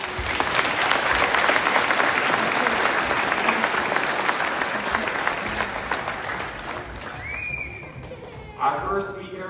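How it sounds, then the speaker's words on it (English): Loud, sustained applause from a school audience at a high school Veterans Day ceremony, dense clapping filling most of the stretch before thinning out near the end as a few voices come through. "Let's give them a round of applause."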